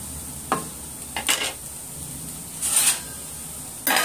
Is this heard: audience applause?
no